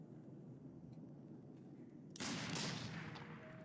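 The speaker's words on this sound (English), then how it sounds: "I'm just fucking desensitized to gunshot sounds" Gunfire in the horror video game Layers of Fear 2: a sudden loud, broad burst of shots that keeps roaring to the end, after a stretch of low, murky ambience.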